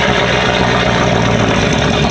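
A cammed engine idles loud and close, its exhaust droning in a constant, unbroken rumble with no voices over it.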